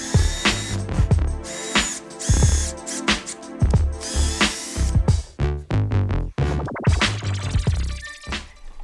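A power drill bores a hole for a pole lathe in repeated short, harsh bursts, with brief pauses and changes in pitch as the bit works down into the wood.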